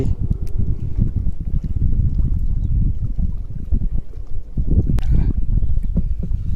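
Strong wind blows outdoors in a steady, loud roar that buffets the microphone for several seconds, with brief gusty swells and no voices.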